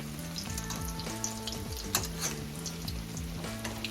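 French toast made with raisin bread and egg fries in a pan with a steady close sizzle, soft bubbling crackle running throughout without talk.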